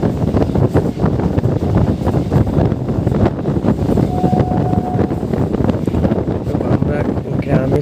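A local train pulls out of Champahati station on the Sealdah to Canning line, a loud, steady rumble with rushing wind noise heard from on board, with voices faintly mixed in.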